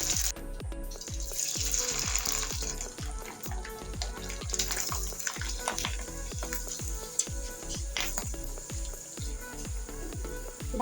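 Pata pitha fries in hot oil with a lively, close sizzle, while a rapid series of regular rhythmic taps repeats steadily beneath the bubbling throughout.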